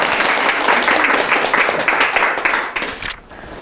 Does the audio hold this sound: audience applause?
yes